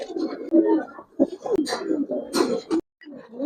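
Giribaz pigeons coo repeatedly up close in a loft, with soft, throaty, overlapping calls and brief pauses.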